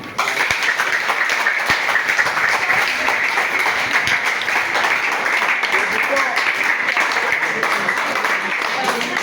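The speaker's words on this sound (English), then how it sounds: "Clap for me" Students at a junior high school purity campaign assembly clap together, a dense, steady wash of clapping that holds at an even level, with a couple of sharper isolated claps early on.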